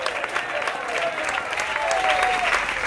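Church congregation at an evangelistic campaign applauding, a dense steady wash of many hands clapping for a few seconds, fairly distant and even, with faint crowd murmur.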